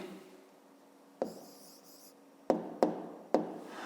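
A pen moves on paper as a math answer gets written, soft scratching strokes followed by three sharp taps, quiet and close with no voice.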